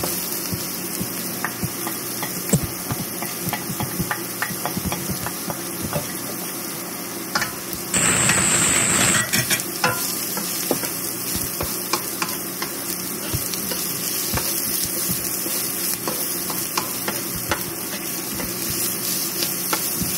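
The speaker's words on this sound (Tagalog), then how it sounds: "wait lang po natin maging golden brown yung bawang" Garlic sizzling in a pan as it fries toward golden brown for tortang Kapampangan, a continuous crackling hiss that briefly flares louder partway through, with light stirring scrapes.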